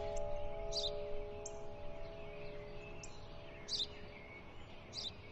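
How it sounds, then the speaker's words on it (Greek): A sparrow chirps a few times, short high calls spaced seconds apart, over a steady electrical hum and low background rumble. "Τι είναι αυτό? Ένα σπουργίτη."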